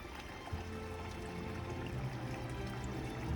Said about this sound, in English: it's probably a mini waterfall